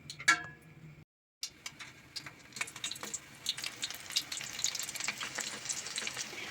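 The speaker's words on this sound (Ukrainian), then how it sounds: "ложимо на сковородку, будемо смажити" Oil sizzles and crackles steadily in a pan after a brief pause, with small pops scattered throughout as milk-dough pastries fry up close.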